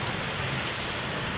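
Steady, dense rain drums on surfaces during a storm that also brings hail, a close, continuous hiss with no pauses and no voices.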